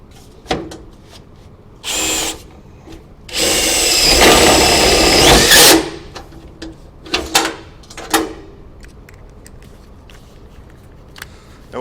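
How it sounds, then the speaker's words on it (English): Regular drill (not an impact driver) driving #14 screws through a gutter into a back wall beam, heard as a few short whirring bursts and one long loud run, with clanks and knocks between, close by. "I'm using a regular drill, not an impact."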